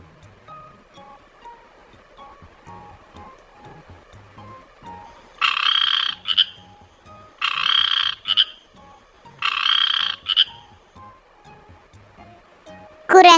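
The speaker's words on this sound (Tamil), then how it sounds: "தவளை." A frog croaks in three loud, close bursts of rattling calls spaced a couple of seconds apart, with quiet pauses between them, as part of a children's animal sounds activity.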